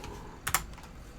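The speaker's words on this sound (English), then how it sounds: "Hit enter on the keyboard." Two quick keypresses on a computer keyboard entering a shortcut during a Farming Simulator 19 session, sharp clicks close together over a quiet low hum.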